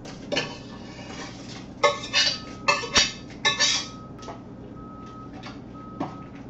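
A metal cooking pot of spaghetti sauce clanks as it is shifted and set down on a stovetop, a handful of sharp close knocks and rattles in a quiet kitchen.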